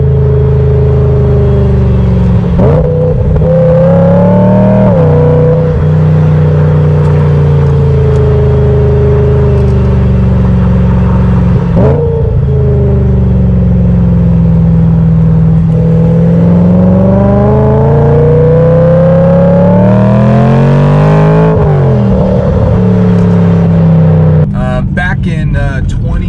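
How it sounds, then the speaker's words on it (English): A loud BMW M3 engine roars and revs, its pitch dropping and surging through several sharp downshifts as the car accelerates and slows, heard close up. "Oof, that downshift."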